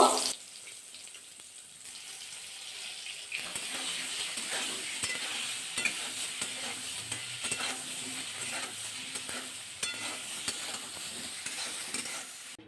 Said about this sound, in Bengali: এবার কিন্তু বেগুনটা ভাজা করে নেবো